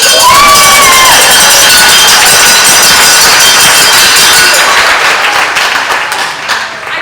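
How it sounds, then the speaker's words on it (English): Teammates cheering and clapping at an athletic hall of fame awards ceremony, a loud crowd roar with whoops and applause that holds strong before fading toward the end. "I gotta give a big Blue Streak cheer to all my teammates that are here!"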